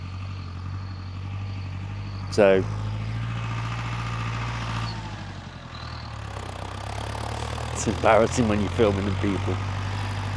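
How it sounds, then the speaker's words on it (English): A tractor drives through a farm campsite with a steady low engine rumble in the background, running beneath someone talking close by throughout. "the tractor was coming through"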